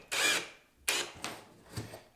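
Drill driving a 1.25-inch bugle-head drywall screw into drywall, one strong whirring burst followed by a few shorter quieter ones, close and faint overall.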